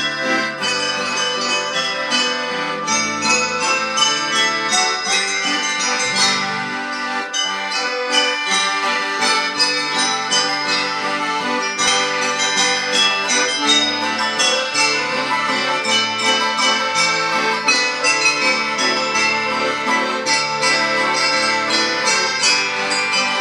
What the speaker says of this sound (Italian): rintocchi delle campane hanno da sempre accompagnato e scandito la vita